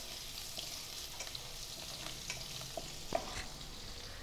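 Chili pieces and asafoetida sautéing in hot oil while being stirred, a soft, steady close sizzle with occasional light scrapes and pops, no talking.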